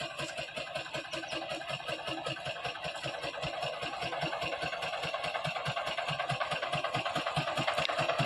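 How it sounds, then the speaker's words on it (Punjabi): Tractor engine running steadily while coming down a slope on a farm during mustard harvesting, a continuous rhythmic chugging that grows slightly louder toward the end, heard alone with no talk. "ਦੇਖ ਰਹੇ ਹੋ ਤੁਸੀਂ ਟਰੈਕਟਰ نیچے ਆ ਰਿਹਾ"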